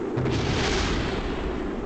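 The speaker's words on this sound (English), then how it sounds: "Everything's exploding." A rocket blowing up in Kerbal Space Program: a loud, sustained roaring explosion that fills the whole moment without a break, with no voices over it.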